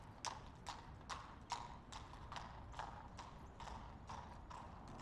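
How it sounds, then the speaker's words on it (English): A horse clip-clops along a street in Tulsa, with roughly a dozen evenly spaced hoof strikes in a steady walking rhythm, faint and somewhat distant over a low background hum. "Horse."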